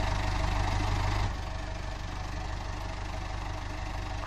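A tractor engine in the Farming Simulator 2013 video game drones steadily at a low, throbbing idle, loud and continuous with no talk, dropping slightly in level after the first second.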